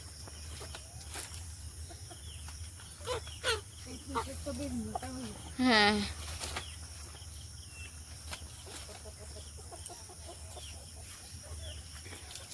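Chickens roaming near a house cluck in a few short bursts, with one louder, drawn-out call midway, over a low background hum. A voice speaks briefly.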